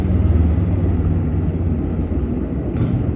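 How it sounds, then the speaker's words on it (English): Traffic rumbling in the background, with cars and a train passing somewhere nearby; a continuous low engine drone stays steady and fairly loud throughout, with no voices. "you guys hear the train and the cars in the background"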